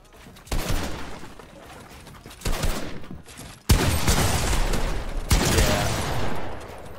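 Loud bursts of game gunfire during a Fortnite 1v1 match: several sharp onsets, each followed by sustained crackling rounds, arrive in four close waves with brief dips between them.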